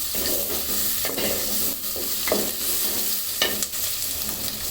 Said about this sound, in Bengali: এখন পেঁয়াজটা একটু ভেজে তারপরে আমি মশলাগুলো দিয়ে দেবো